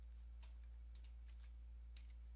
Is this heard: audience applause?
no